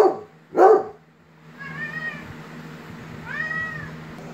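A kitten meows during pet playtime indoors, with two short bursts up front and then two thin drawn-out meows over a low steady hum, close and moderately loud.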